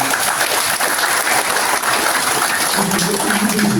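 Audience at a Buddhist memorial ceremony gives loud, continuous applause, a dense wash of many hands clapping close and steady throughout.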